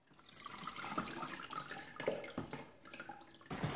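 Water pours and splashes out of an O3 fruit and vegetable washer into a basin, a steady close gush with gurgles and drips and no voices.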